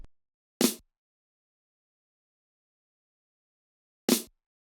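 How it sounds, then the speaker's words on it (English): A second snare sample from the Venexia Takeover 2 kit strikes twice, sharp and close, with a short snappy body and quick fade, the two hits separated by a long stretch of silence. "Then I added another snare out of Takeover 2"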